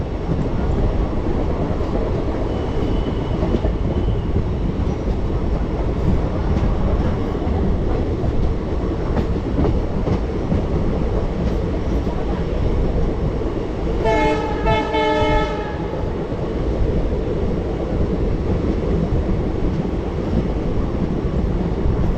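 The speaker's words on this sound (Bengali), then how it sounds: "একদম নির্দিষ্ট টাইমে শিলিগুড়ি জংশন থেকে আমাদের ট্রেন ছেড়ে দিল।" A train pulls out of Siliguri Junction, its steady rolling rumble filling the whole stretch, with a single loud horn blast sounding for about a second and a half partway through.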